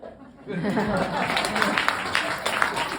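A small puppet show audience claps and cheers after a quiet start, with laughter and chatter mixed into the steady applause.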